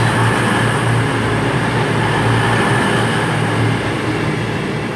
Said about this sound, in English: I would have seen this on its southbound pass earlier 221 123 heading for Manchester Piccadilly